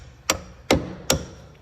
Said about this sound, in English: we should be able to give a little hit with the hammer